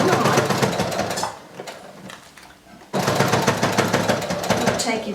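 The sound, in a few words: sewing machine stitching a fly zipper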